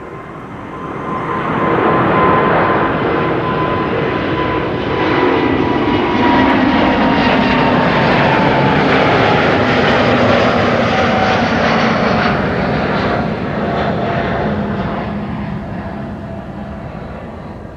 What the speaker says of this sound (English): this is Finnair flight 1302 to bloody Helsinki in Finland. A350 OHLWS.